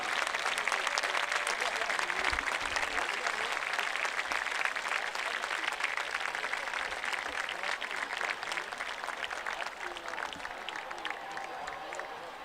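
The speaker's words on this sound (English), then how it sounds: "Please join us in a big round of applause for Leslie and" A stadium crowd at a high school football game between Westfield and Hamilton Southeastern applauds, a broad, steady wash of distant clapping and crowd noise sustained for over twelve seconds.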